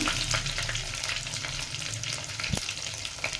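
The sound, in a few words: crushed garlic frying in hot oil for tempering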